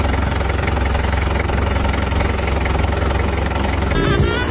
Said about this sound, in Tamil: வீடியோ பாருங்க, இன்ஜினோட நாய்ஸ் வீடியோ.